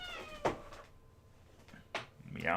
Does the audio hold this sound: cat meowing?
yes